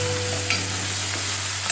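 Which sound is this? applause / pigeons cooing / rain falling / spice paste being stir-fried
spice paste being stir-fried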